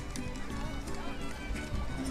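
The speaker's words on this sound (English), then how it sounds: "I'm in the middle of the horse parade right now" Horses clip-clop through a crowded street during the historic Fiesta parade in Santa Barbara, hooves beating steadily under loud crowd noise and music, with people talking nearby.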